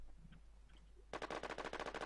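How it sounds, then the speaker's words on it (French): Rapid automatic gunfire in the online survival shooter game NewZ, a dense burst of evenly spaced shots starting abruptly after a quiet stretch and continuing loud to the end. "Oh, ça tire!"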